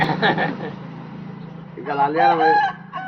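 A voice speaks briefly, then a rooster nearby lets out one loud, drawn-out crow.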